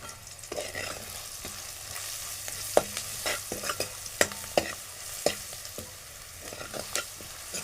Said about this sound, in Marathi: आपण पुन्हा ढवळून घेऊ